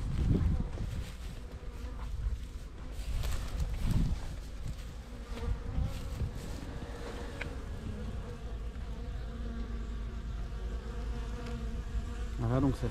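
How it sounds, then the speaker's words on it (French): Steady, dense buzzing of many honeybees close by, a continuous droning hum with individual bees passing near, no voices. "On a une abeille qui est en train de sortir"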